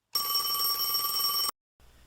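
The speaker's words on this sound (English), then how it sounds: "Then the phone rang again." A telephone rings once, a loud steady electronic bell tone lasting over a second, then cuts off into brief silence before faint room noise returns.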